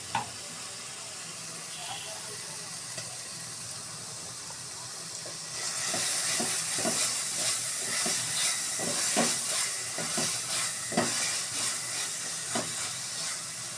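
Spice masala fries in a pan: a quiet kitchen background at first, then a sudden loud sizzle with crackling bursts from stirring that carries on to the end.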